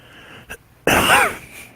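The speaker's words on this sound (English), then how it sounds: "Excuse me, sorry for that. Didn't mean to cough in your ears." A single sharp cough bursts out close to the microphone after a quiet moment, followed by a brief raspy trailing breath.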